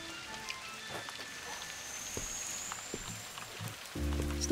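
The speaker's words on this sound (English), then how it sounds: "Oh, it's rainy." Rain falling in the video game Viewfinder, a steady soft patter of drops on surfaces with scattered ticks and a faint tonal hum, ending with a louder low tone entering near the end, no speech.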